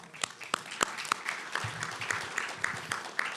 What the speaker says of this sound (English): So I want us to all give them a round of applause again.